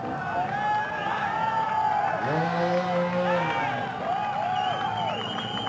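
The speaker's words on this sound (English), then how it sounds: "And the Austrian crowd cheering on Lars Inekel," Austrian crowd cheering at the Erzberg Rodeo extreme enduro hare scramble, a broad roar with whoops under a commentator's voice, and a motorcycle engine rising and falling nearby.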